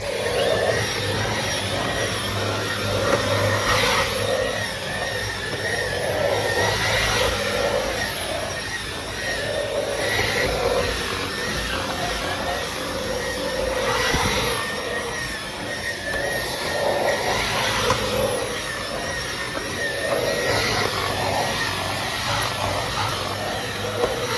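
A Dyson V15 Detect cordless vacuum cleaner whirs loudly and continuously while cleaning stairs, its motor pitch rising and dipping slightly as the head is pushed and lifted.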